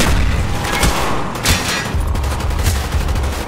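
Dense, sustained gunfire with booming explosions from a Call of Duty: Black Ops campaign battle, a loud continuous barrage of rifle bursts and heavy blasts with no let-up.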